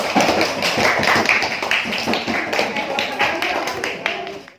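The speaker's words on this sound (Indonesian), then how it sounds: "tepuk tangan untuk kelompok daun" A classroom of students claps for a presenting group, a fairly close, uneven patter of many hands that tapers off near the end, with some voices mixed in.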